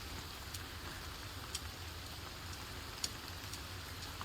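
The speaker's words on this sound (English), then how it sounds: "Ooh, that's some good rain, isn't it?" Rain falls steadily in the Sons of the Forest video game, a soft even hiss with occasional brighter drop ticks and no voices.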